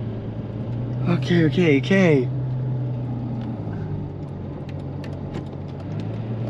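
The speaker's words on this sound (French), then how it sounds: "Ah, je conduis une TDF." A new Ferrari F12 TDF drives at low revs, heard from the cabin as a steady low engine drone and road rumble, with someone speaking briefly over it near the start.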